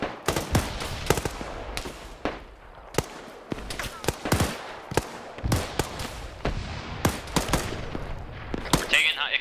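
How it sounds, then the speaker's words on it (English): Explosive shotgun rounds firing in The Facility game, a rapid, irregular string of loud sharp bangs and blasts, some overlapping, with crackling booms between them. "It's those fucking explosive shotgun rounds"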